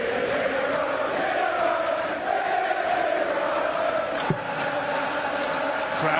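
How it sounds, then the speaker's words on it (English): A World Darts Championship arena crowd roars and cheers behind a player in a steady, dense wall of voices with a brief shout near the end. "Crowd right behind Peter Wright"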